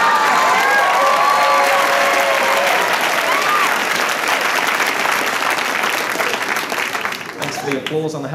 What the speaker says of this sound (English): The applause on the helicopter there.